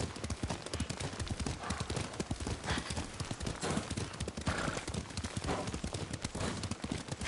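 Rapid, continuous galloping hoofbeats from a horse in a PS4 video game, loud and close, pounding steadily throughout with a faint whinny.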